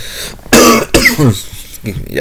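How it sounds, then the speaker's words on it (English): A brief harsh cough or throat clearing up close, followed by a voice speaking. "Still recovering from that cough"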